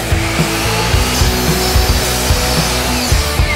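A saw cuts through 2x4 wooden boards with a loud, rapid rasping drone and rhythmic strokes, close up and continuous, without any talking.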